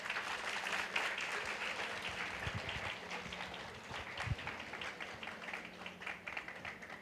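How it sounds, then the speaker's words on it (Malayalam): Faint, distant applause fills a hall at an anniversary inauguration ceremony as a speaker is welcomed to the stage, a steady patter of clapping with a few sharper claps standing out. "നിറഞ്ഞ കയ്യടിയോടുകൂടി നമുക്ക് ക്ഷണിക്കാം"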